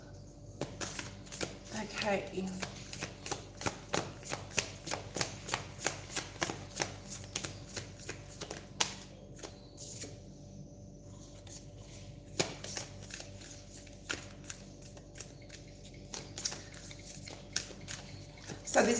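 Repeated soft riffling and snapping of tarot cards being shuffled, in bursts over about twenty seconds, with a voice speaking briefly.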